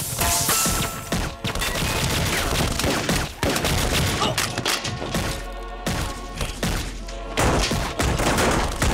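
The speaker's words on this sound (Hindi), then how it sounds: "अंदर से फायरिंग कम हो गई है" Heavy gunfire in a Bollywood action film shootout, a dense, continuous barrage of loud overlapping shots and crashing impacts sustained throughout, with brief dips and an underlying low rumble.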